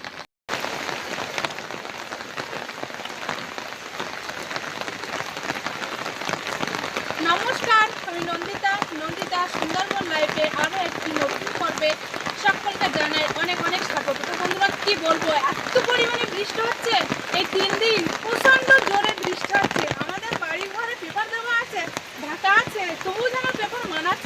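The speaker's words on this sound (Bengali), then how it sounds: "এত পরিমাণে বৃষ্টি হচ্ছে" Heavy rain hisses steadily on surfaces in the Sundarbans for the whole stretch, a dense, close downpour with voices speaking under it at times.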